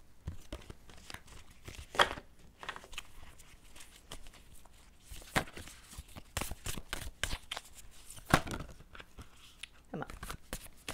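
A deck of Akashic Tarot cards is shuffled by hand in repeated riffles and crisp snaps, nearby. Rustling and soft handling noises fill the gaps between them.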